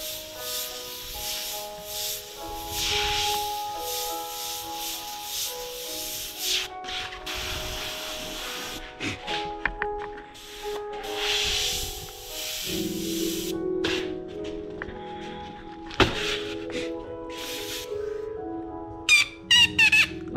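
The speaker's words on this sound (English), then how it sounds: "Airbrush is the Omni 3000 by Thayer and Chandler" A Thayer and Chandler Omni 3000 airbrush spraying paint onto T-shirts, with hissy bursts starting and stopping irregularly over background music.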